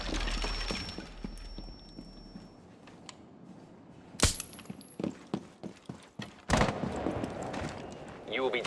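A frag grenade in Rainbow Six Siege goes off as a single sharp blast midway, followed by scattered impacts and clattering under quiet in-game radio voices.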